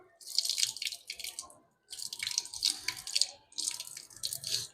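Water splashes and drips in uneven bursts as it is poured into a hand and used to rinse the nose during ablution, close and fairly loud, with brief pauses between pours and no speech.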